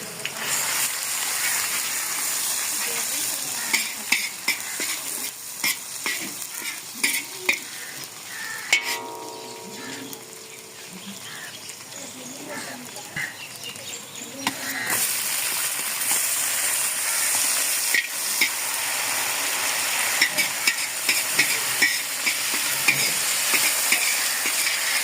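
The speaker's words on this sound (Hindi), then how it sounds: "प्याज हमारा सोनरी कलर में आ गया है, तो इसमें डाल दूंगा मैं लहसुन।" Garlic fries with golden onions in a pan over a steady hissing sizzle, stirred throughout with frequent scraping and clicking spoon strokes, quieting briefly midway before the sizzle comes back strong.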